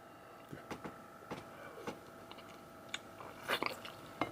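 Crab meat dipped in butter is chewed close to the microphone, with soft wet bites and small crunchy clicks repeating quietly and irregularly.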